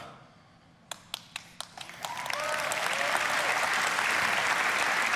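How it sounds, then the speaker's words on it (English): A crowd at the Ubisoft E3 2019 presentation starts with a few sharp isolated claps that quickly build into loud, sustained applause filling the hall. "congrats to that one dude who got the clap started there"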